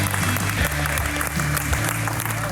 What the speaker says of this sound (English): we got a lot of applause